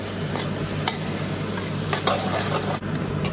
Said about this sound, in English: Now I'm going to give it a very good mix.